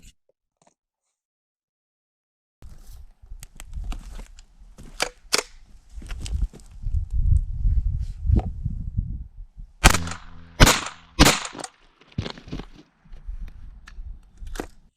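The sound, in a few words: homemade accelerator firing lead pellets at a target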